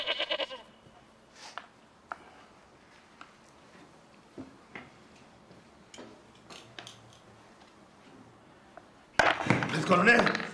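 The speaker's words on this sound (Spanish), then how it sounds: "Joder, esa cabra, coño." A goat bleats in bursts, with a loud, close bleating at the end, among scattered clicks and some voices.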